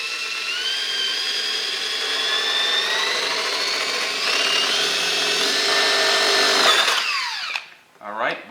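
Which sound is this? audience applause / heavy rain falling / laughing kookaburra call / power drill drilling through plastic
power drill drilling through plastic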